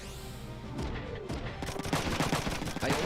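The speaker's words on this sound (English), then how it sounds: "when finally when he runs out of missiles, he's gonna start firing his machine gun at me" Machine gun fire in the video game Front Mission 3: rapid, dense bursts of gunshots from an enemy machine gunner, fairly quiet in the mix, rattling on continuously through the second half.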